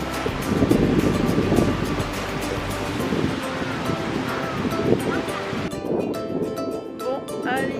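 Waves break on the beach at Boutillardière on the Côte de Jade, a loud, continuous surf rush from a clifftop viewpoint, with wind buffeting the microphone throughout.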